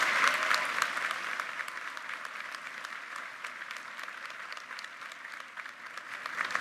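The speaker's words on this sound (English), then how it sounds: "Can we have a round of applause for these dedicated faculty members?" A commencement crowd at Birmingham-Southern College claps steadily for dedicated faculty members, a broad, even wash of applause heard from a distance that holds at a moderate level throughout.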